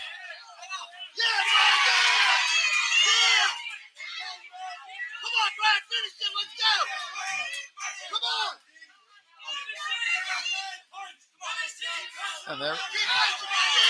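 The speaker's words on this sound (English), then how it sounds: "the crowd is going nuts right now" Loud crowd at a Knights of Columbus boxing smoker fight, cheering, yelling and screaming in sustained waves across the whole stretch, with shouting voices dense and close throughout.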